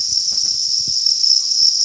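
Crickets on a cricket farm chirp in a dense, continuous, high-pitched trill, loud and close, with a few soft low knocks underneath.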